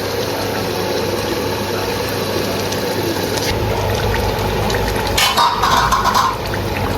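Potatoes stir-fried in a pan during home cooking, giving steady sizzling and scraping of a spoon against metal. A low rumble sits underneath, and a brief louder clatter comes near the end.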